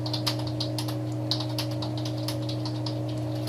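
Steady typing on a computer keyboard, a quick run of close, crisp key clicks over a constant low electrical hum.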